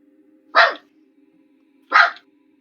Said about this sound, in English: I'll tell my dog to shut up.